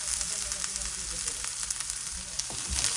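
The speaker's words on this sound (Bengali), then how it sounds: "এই যে এখন আমি এই পেঁয়াজটাও ভেজে নিচ্ছি" Red onions frying in a pan for a radish and shrimp mash, giving a steady, close, crackling sizzle with brief spattering pops throughout and no talking.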